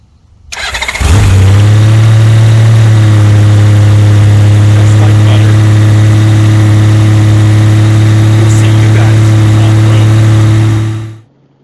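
A Honda Goldwing motorcycle starts after a long winter's storage. It cranks briefly, catches, then settles into a loud, steady, smooth idle before being shut off after about ten seconds.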